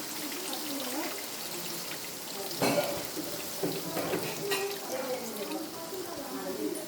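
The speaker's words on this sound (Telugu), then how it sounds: "చింతపులుసు కొన్ని వాటర్ కూడా పోసేసుకున్నానండి" Tamarind juice and water poured into a hot cooking pan, splashing and bubbling in short bursts under a sizzle, with a person talking over it.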